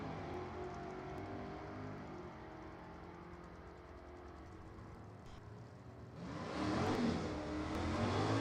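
Drag-racing cars, a Belvedere and a Barracuda, run down the strip at an NHRA divisional race. A steady engine drone holds, then a louder roar rises and stays near the end.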